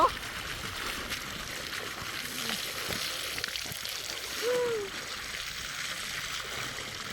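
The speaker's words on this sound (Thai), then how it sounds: "น้ำไหลมาจากภูเขา" Mountain water flows down near a rice field as fence work goes on, a steady, fairly faint rush with small splashes, while people shout and exclaim over it.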